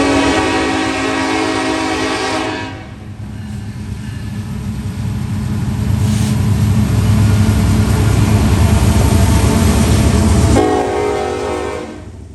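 A short westbound Norfolk Southern freight train on the Dayton District rolls past close by, its horn blaring in long loud blasts at the start and end over a continuous heavy rumble of rail cars.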